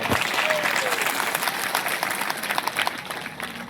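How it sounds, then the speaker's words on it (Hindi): A crowd at a Mahashivratri celebration and community hall inauguration in a Chhattisgarh village breaks into loud, continuous applause, dense clapping with a few cheers, heard close and alone for a few seconds. "एक बार जोरदार ताली बजा"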